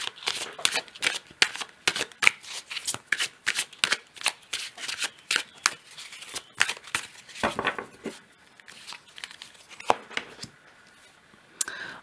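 Tarot cards are shuffled and drawn by hand in a rapid run of crisp riffling flicks and slaps, close and continuous, with a pause partway before the card handling resumes.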